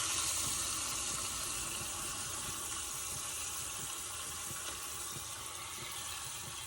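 Water is poured into a cooking pot for chicken nihari, a steady, continuous, close gushing pour lasting several seconds.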